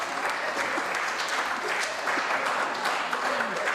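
Applause in a provincial legislature chamber during a debate on the state of the province address, a dense steady clapping from many members that fills the room throughout, with murmured voices mixed underneath.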